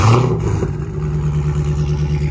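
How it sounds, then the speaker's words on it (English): A catless Dodge Charger SRT 392 V8 settles from a warm start into a loud, deep, rumbling idle, close and steady throughout. "I'm gonna give y'all a warm start on the Catless SRT 392."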